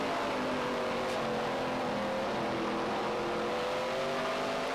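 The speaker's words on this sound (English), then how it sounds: "Sound of NASCAR from Riverside Speedway." NASCAR race cars at Riverside Speedway during the 2014 Wilson Equipment 300 drone loudly and continuously from a distance, their engines blending into a steady roar with a faint rising and falling pitch.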